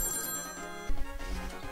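Telephone ringing in a room during a video game play session, a steady electronic ringtone with a low thump partway through, no voices.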